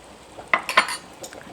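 Tomatoes and lemon juice are stirred into a pan of creamy pesto shrimp, giving a short burst of utensil clinks and wet scraping strokes over a quiet background.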